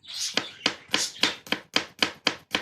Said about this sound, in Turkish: Sarımsağını doğruyorum